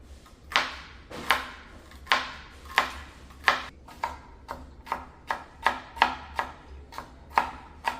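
A knife chops celery on a cutting board in steady, crisp strikes, about a dozen evenly spaced thuds, close and clear with no talking.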